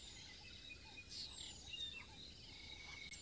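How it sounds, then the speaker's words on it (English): Faint birds calling at sunrise on safari, including southern black tits, with scattered thin chirps and whistles over a soft insect-like background hiss, distant and quiet, and no talk. "There's lots and lots of birds calling at the moment, some southern black tits,"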